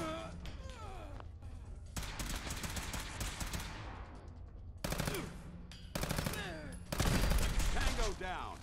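Bursts of rapid, dense gunfire in Fallout 4, attributed to a Gauss rifle, come in several loud volleys with brief pauses between them, along with faint sighs or gasps.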